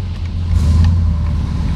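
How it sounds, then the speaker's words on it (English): Deep, rumbling idle-to-cruise drone of a 1969 Chevelle Malibu with a 396 big-block V8 and four-speed, heard from inside the car, steady and loud with a slight swell midway. "Car fires right up and sounds really, really good."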